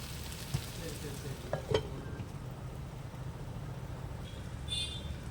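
A spoon stirs bitter gourd fry in a pan on low heat. A few light clinks and scrapes sound near the start over a soft, continuous sizzle, with no talking.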